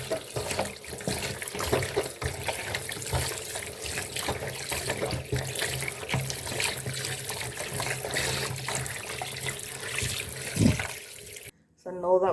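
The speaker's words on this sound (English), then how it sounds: "add some more water and give that a good wash" Water running into a pan to rinse pieces of goat meat, a steady splashing wash with sink-like gurgle lasting most of the stretch before a brief drop-out near the end.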